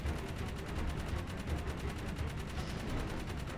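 Rapid gunfire in the Jak 3 video game, a steady stream of shots rattling on without pause at moderate loudness over a rumbling low background, with no voices.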